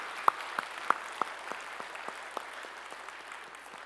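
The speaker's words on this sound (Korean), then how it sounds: "우리 찬양을 받으신 주님께 영광의 박수 올려드리고" Scattered handclaps from a small church congregation during a Sunday worship service, a few sharp, separate claps that thin out into sparse, quieter ones.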